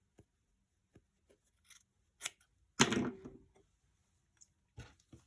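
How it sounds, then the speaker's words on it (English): Scissors snip through stuffed bear fabric pieces in a few sharp, separate cuts, with one longer close crunching cut in the middle and light handling clicks between them, in a quiet room. "Okay, so now we'll just cut these."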